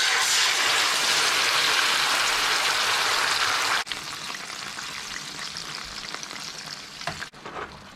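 Peeled tomatoes hit sizzling rendered pork fat for penne amatriciana, a loud bright hiss that drops to a softer, bubbling sizzle after the tomatoes go in, with a couple of brief clanks of stirring.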